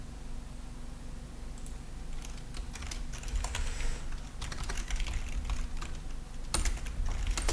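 Steady typing on a computer keyboard on a Mac, entering a Cordova command in a terminal, with quick light key clicks in uneven bursts and a few louder taps, close and clear with no talk.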